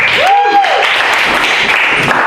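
A comedy club audience applauds a comedian with a dense, steady wash of clapping that runs the full short stretch, while a voice speaks briefly over it at the start.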